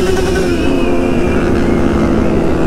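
Many motorcycles, including Honda Hornets with straight pipes, riding in a night convoy toward a city centre, a loud, dense engine drone with overlapping revs passing close by.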